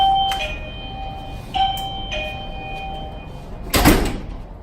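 An electronic door chime meant to alert when a child opens a door plays a sequence of clear tonal beeps over a low background hum, ending with a sharp thump of the door.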